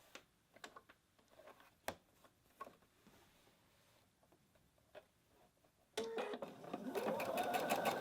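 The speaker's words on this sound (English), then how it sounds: "So I'm stitching the right side of the facing to the wrong side of the blouse." A sewing machine stitches the right side of a facing to the wrong side of a blouse. Sparse soft taps come first, then a loud, steady, fast whirring run from about six seconds on, with faint talk early on.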